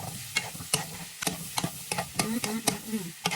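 A spatula stirs and scrapes vegetables, including broccoli and sweet peas, being sautéed in a pan for beef chop suey. Sharp scraping strokes come every few tenths of a second over a soft sizzle.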